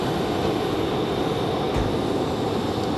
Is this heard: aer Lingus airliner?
yes